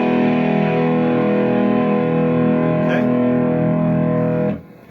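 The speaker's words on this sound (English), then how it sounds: "This particular distortion is a high gain to simulate a Marshall lead guitar full rich tone." A sustained, heavily distorted electric guitar chord rings thick and saturated with rich harmonics, then cuts off abruptly near the end.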